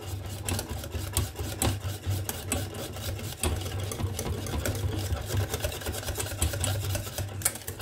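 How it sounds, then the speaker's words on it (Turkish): Cocoa cake batter being mixed, likely with an electric mixer, gives a steady low mechanical whir with rhythmic scraping and rattling of the bowl, continuous and fairly close, with no talking. "Şimdi güzelce bunu karıştırayım."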